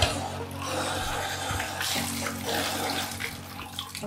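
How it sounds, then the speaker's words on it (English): Water poured from a cup over a rescue dog's soapy coat during a bath, rinsing section by section; a steady close splashing and trickling runs through the whole stretch, with faint fluctuations. "all I'm gonna do is I'm gonna pour this water and I'm just gonna work it section to section through her fur to get the rest of that soap out"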